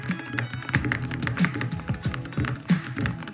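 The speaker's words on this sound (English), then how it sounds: "Here's kind of what the sound test is for this keyboard." Rapid clicky typing on an Apex Pro gaming keyboard fitted with red switches, a dense steady stream of keystrokes close up with no talking.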